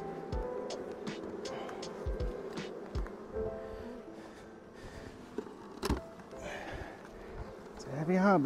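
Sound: honeybees at hive during sourwood nectar flow

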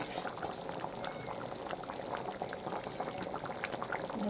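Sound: curry boiling in the pot

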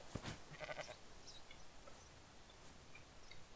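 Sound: sheep bleating in the video game Rising World

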